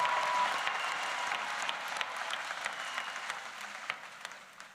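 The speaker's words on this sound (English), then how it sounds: "Let's give them all a round of applause" Round of applause from the audience at a university social work convocation ceremony, a moderately distant crowd clapping steadily with scattered sharper claps standing out as it gradually thins and fades.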